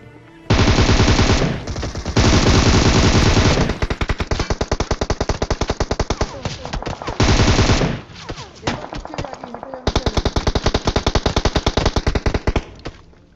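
Rapid automatic gunfire from a battle royale video game comes in long sustained bursts and shorter broken volleys, loud and close, with brief pauses between strings of shots and no clear talk.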